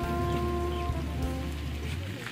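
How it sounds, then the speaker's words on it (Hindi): Heavy rain pours steadily onto a village road where water has pooled, a loud, continuous hiss and patter up close with a low steady rumble underneath and no pauses. "बारिश हो रही है गाइस, देख सकते हो इधर रास्ते पे पानी है, बहुत सारी बारिश हो रही है"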